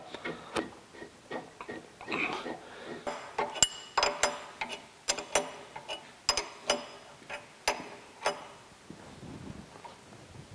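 Bolts are fitted onto the table of a Cincinnati Bickford drill press in a workshop, heard as a sparse, irregular series of sharp metallic clicks, taps and clanks at close range.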